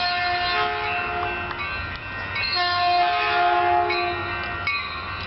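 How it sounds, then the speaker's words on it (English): Caltrain 155 passenger train rolling past in Burlingame, a steady rumbling rush with sustained horn tones sounding twice, close and loud, no talk. "here comes Caltrain 155"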